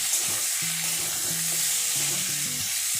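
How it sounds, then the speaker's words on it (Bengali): Potatoes and onions sizzle steadily in a hot pan, a constant bright crackle with a few low clanks of stirring underneath. "পেঁয়াজ এবং আলু একসাথে মিশিয়ে ভালো করে ভেজে নিচ্ছি।"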